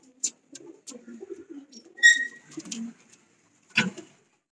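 Racing pigeons in a loft give soft, low coos, mixed with a few sharp wing flutters and a brief whistle-like note, close by with quiet gaps between sounds.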